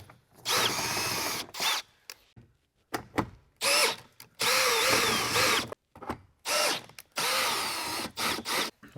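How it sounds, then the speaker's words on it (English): A power drill fitted with a step bit bores out factory hole positions in several short, loud bursts of whining, grinding drilling separated by brief pauses. "we're just going to drill out these 4 factory hole positions here"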